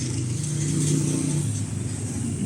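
A car engine runs steadily after being started in a workshop, a continuous low hum with a slight mechanical clatter and a faint rise in revs, close by and without talk.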